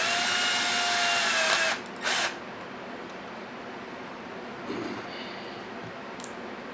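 Power drill with a clutch at a low torque setting tightening screws on a Losi Super Baja Rey 2.0 RC truck: one long whirring run, then a short second burst, with faint handling clicks afterward.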